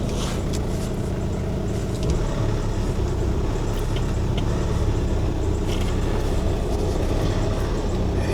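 Honda Civic moving under its own power, a low rumbling engine and road drone with some rattles and clicks, steady and fairly close, no talk.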